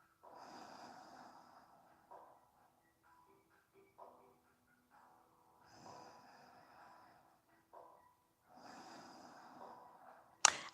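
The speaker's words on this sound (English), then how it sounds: "breathing through your nose" Slow breathing through the nose during a yoga session, soft airy inhales and exhales in separate bursts with long quiet gaps between them, ending in one short louder snort-like rush.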